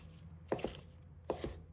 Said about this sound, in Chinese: 几个小葱，把它切成小段。